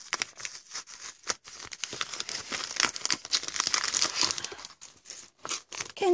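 Product packaging being torn and crinkled open by hand, with a steady run of close, soft crackling plastic and paper rustles, scrunches and small tearing sounds; no talking.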